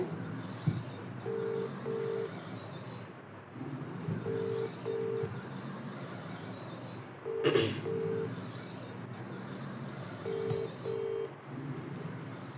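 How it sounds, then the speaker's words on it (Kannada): An unanswered outgoing mobile phone call plays its ringback tone: paired beeps repeat about every three seconds over a noisy indoor background, with no voices. "ರಿಂಗ್ ಆಗ್ತಾ ಇದೆ."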